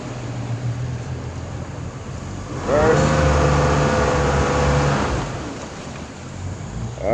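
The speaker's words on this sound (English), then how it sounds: "motor's in good running shape" The outboard motor on a Triton 220 LTS boat idles, then rises to a louder, steady engine drone when shifted into reverse before settling back down, heard close with water wash underneath.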